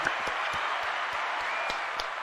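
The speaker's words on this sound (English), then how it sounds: "I think we give him a round of applause" A small audience gives a brief round of applause on a live magic show, as a steady, fairly quiet wash of clapping with a few sharper claps standing out.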